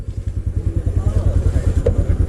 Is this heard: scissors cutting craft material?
no